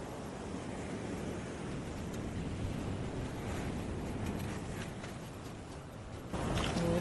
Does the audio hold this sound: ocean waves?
yes